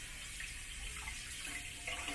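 Tap water runs steadily over cedar being rinsed in a sink, a continuous close splashing hiss with no speech.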